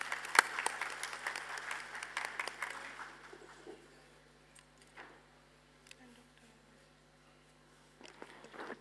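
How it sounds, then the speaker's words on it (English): Audience at a medical academic felicitation event claps for an honoree, a short, lively patch of applause at the start that thins to scattered single claps and a few distant claps, fairly faint in a quiet hall. "A big round of applause, please."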